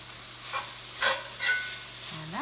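Drained hamburger meat stirred and sizzling in a cast iron pan, a soft steady frying hiss with a few louder scraping stirs spaced through.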